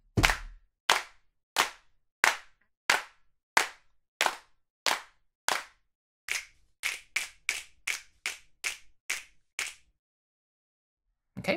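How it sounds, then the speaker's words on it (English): Sampled claps and finger snaps from a choir sample library, played alone as a steady sequence of crisp, dry hits, about two per second at first, then a quicker run, ending after a pause with one last hit. "nice little collection of claps and snaps"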